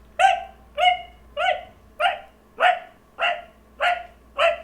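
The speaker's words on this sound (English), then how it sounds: "there's a dog that's in our neighbor's backyard that's barking, yipping" A small yippy dog barks from a neighbor's backyard in eight evenly spaced sharp yaps, moderately distant and steady, with no talk over it.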